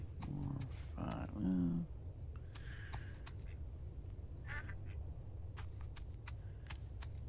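A few short, nasal quacks from ducks on a Farm Together 2 farm, sounding close over a steady low hum with scattered clicks, then fading into quieter ambience.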